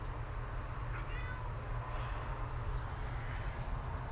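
A faint cat meow rises briefly over steady low rumbling background noise, with a second soft mew a moment later.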